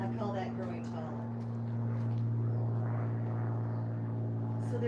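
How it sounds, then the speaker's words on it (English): A small plane from a nearby small airport drones overhead in a steady, low, even hum that swells slightly midway, with a voice speaking briefly near the start. "So there's a small airport close by here. So you have planes flying over"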